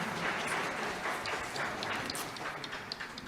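An audience at a cruise industry conference session applauds to welcome a speaker, a steady, full wash of many hands clapping at moderate loudness.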